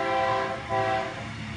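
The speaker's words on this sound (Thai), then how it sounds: "รถไฟ กระบวนพิเศษเข้ากรุงเทพนะครับกระบวนรถไฟติดแอร์" An air-conditioned special passenger train bound for Bangkok passes a rural field, its horn blaring in a sustained chord that briefly dips then sounds again, over the rumble of the rolling cars.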